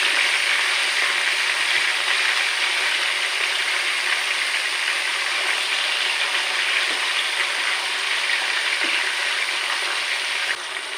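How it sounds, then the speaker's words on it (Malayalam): Chicken pieces fry in a pan for chicken curry, giving a steady, loud, unbroken hiss and sizzle with no voices. "2 പ്രാവശ്യമായിട്ട് നമുക്ക് ചിക്കൻ വറുത്തെടുക്കാനായിട്ട് നമ്മൾ പോവാണ്"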